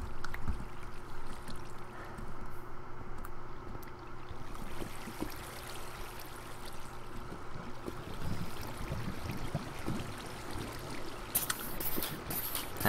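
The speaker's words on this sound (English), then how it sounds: "That much lava and water noise, I should have figured that it was a ravine." Lava and water flow continuously inside a ravine in Minecraft, a steady rushing and trickling wash that sounds fairly faint and distant.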